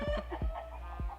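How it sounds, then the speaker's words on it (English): Rooster on a homestead farm clucking in several short, close bursts, a few low throaty calls spaced across a brief moment with no talk. "So we just chased that beautiful rooster"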